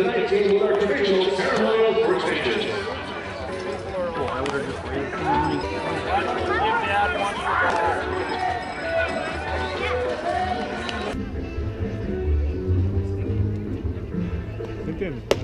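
Chatter and shouting from a large crowd of kids at a 66ers minor-league baseball game in San Bernardino, a dense, busy babble close around, thinning somewhat near the end.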